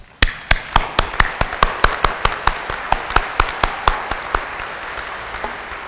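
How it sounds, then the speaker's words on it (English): Claps at the opening of Saint Francis University's 162nd undergraduate commencement ring out as loud, sharp, evenly spaced strikes close by, about three to four per second, over a softer crowd clapping beneath, the nearby beats thinning out after five seconds. "You can clap."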